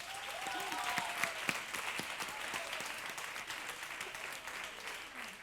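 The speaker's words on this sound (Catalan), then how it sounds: "jo crec que mereixen tots els tècnics un aplaudiment" An audience at a short-film festival closing gala applauds the technicians, a steady wash of many hands clapping at moderate distance, with a brief faint voice early on.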